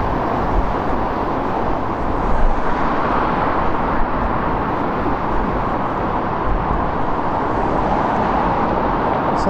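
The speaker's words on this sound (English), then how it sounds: "I will try and speak up today because of the level of the noise from the traffic." Steady, loud road traffic roar in Bristol beside an office block, a dense unbroken rumble of passing vehicles with no distinct individual events.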